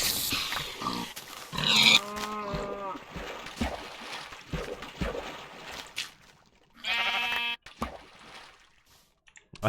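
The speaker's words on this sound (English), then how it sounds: "That is a lot of animals" Sheep bleating and pigs grunting in Minecraft, several overlapping animal calls close by against a busy background, with some talking mixed in.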